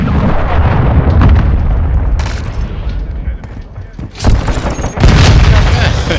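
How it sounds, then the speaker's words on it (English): Cruise missile strike in a video game: loud deep booming explosions and rumbling blasts, with a sharp new detonation near the middle and another heavy burst toward the end, a voice speaking over parts of it. "Friendly cruise missile approaching target."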